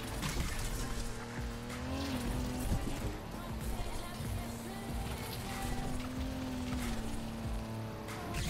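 Car tires squeal while handbrake drifting in the NFS Unbound racing game, a sustained screech over a steady engine roar that holds for several seconds.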